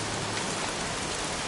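Heavy rain falls in the video game Heavy Rain, a dense, steady hiss of downpour that stays constant and fairly faint throughout.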